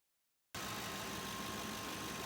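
A 2005 Mercury Grand Marquis engine, just fired up after a water pump replacement, idles steadily with a smooth, even hum and faint whine after a short silent start.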